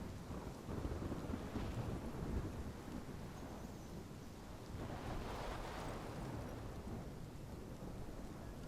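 A thunderstorm rages in the Life is Strange video game: continuous heavy rain and roaring wind with low rolling thunder swelling in broad waves, steady and fairly quiet overall, with no voices.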